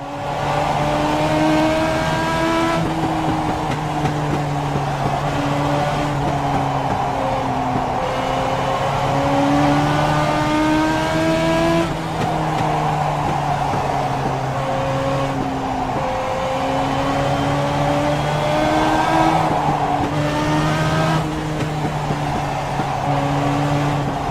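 Multiple race car engines roar in an iRacing Legends race, a sim racing video game, with steady droning tones rising and falling through gear changes as the cars run close together, loud and continuous throughout with no talk.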